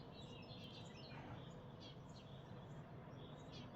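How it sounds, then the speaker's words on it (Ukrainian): Birds chirp and sing at sunrise outdoors, faint scattered calls over a low background hiss, with no voices. "пташки зустрічали своїм співом схід сонця"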